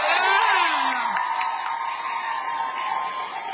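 A crowd at a school district board meeting applauds and cheers, a loud sustained wash of clapping with whoops and a shrill rising shout at the start, fading slightly toward the end.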